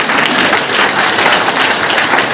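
A meeting crowd in a settlement bursts into vigorous applause, a loud, dense and unbroken roar of clapping that fills the whole moment without talk.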